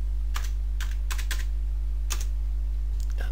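Close computer keyboard typing in several short, quick bursts of keystrokes separated by pauses, with no talking.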